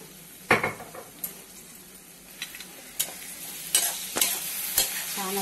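Noodles stir-fried in a pan with green chili sauce and tomato sauce: a steady sizzle punctuated by sharp utensil scrapes and clinks against the pan, close and fairly loud.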